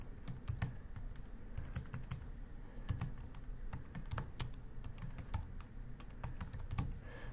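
Rapid, uneven clatter of keys on a computer keyboard, close and moderately quiet, typing in short bursts with no talking.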